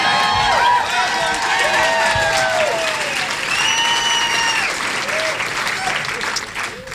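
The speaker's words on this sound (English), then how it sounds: "nobody builds a crowd like Dean for America" A large crowd at a Howard Dean presidential campaign event applauds continuously, with scattered whistles and shouts rising above dense clapping.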